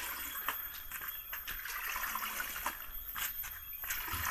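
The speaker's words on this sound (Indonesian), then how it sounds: "ini kita masukin airnya saja jangan daunnya nanti tidak nyampah ya" Water poured into a container of catfish, heard as a steady soft splashing trickle with small bursts, faint and close, with no talking.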